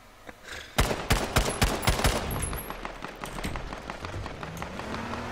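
A rapid burst of gunfire in Z1 Battle Royale, about a dozen close, loud shots in quick rhythm, then quieter scattered game noise.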